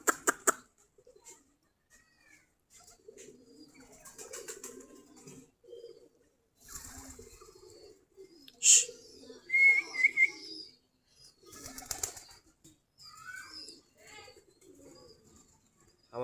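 Desi Giribaz pigeons near their loft give soft scattered coos, with bursts of wing flapping and a sharp whistle-like call breaking in; a voice talks at times between the sounds.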